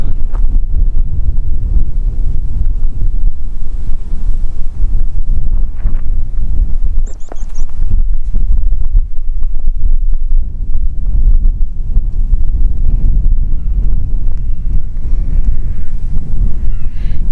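Strong coastal wind on a walk near Craster buffets the microphone with a loud, continuous rumbling roar for the whole stretch, with only a brief dip partway through.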